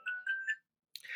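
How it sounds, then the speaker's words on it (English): A phone rings faintly in short electronic chirping bursts, a pause, then another brief warbling tone, quiet and with no talking over it. "Sorry about the phone."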